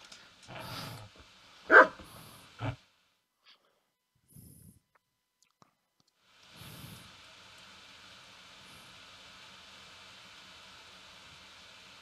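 A dog in the medieval video game Kingdom Come Deliverance gives a few short, loud barks and snorts in the first three seconds, then goes quiet apart from a faint thud before a steady background hiss comes in.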